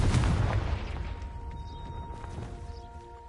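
A Confringo blasting spell detonates in Hogwarts Legacy, a deep booming blast at the start that rolls off into a fading rumble with a thin lingering tone afterward.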